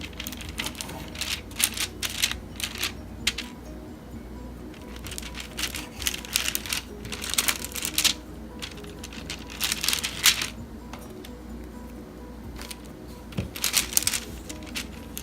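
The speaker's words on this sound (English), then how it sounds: "we're going to cut the biscuits in half. And I have a cutting block under here" A knife chops biscuits in half, then in half again, on a cutting block, making a scattered series of crisp, close taps and clicks in irregular clusters against a soft background hiss.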